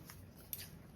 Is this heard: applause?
no